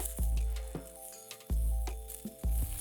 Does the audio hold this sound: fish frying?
yes